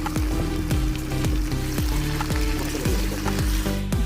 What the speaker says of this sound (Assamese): মই প্ৰথম এতিয়া কঁঠালখিনি ফ্ৰাই কৰি ল'ম।